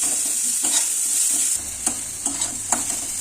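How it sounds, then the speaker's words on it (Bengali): Eggplant and potato fry in a pan over lowered heat for a drumstick flower dish, with a steady close sizzle and several sharp spatula stirs, quieter after the first half, and no talk. "আমি এদিকে একটু এগুলো ভেজে দিচ্ছি আঁচটা কমিয়ে দিলাম"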